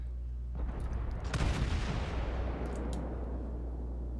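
Naval gunfire from a battleship salvo in the World of Warships video game: a single heavy, rumbling boom that rolls out and slowly fades over a steady low engine hum.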